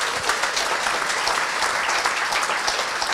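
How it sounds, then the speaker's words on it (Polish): Steady, dense applause from a large crowd at a jubilee concert, sustained and even throughout with no pauses. "Brawa."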